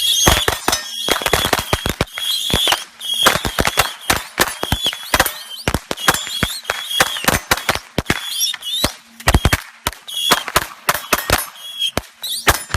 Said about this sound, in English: was shooting fireworks at himself to increase stress and danger levels while running his handgun